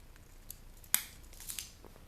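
Wire cutters snip through the lead wires of a scrapped fluorescent light ballast, one sharp close click standing out above a quiet background, with a couple of softer handling sounds around it.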